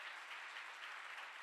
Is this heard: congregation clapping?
yes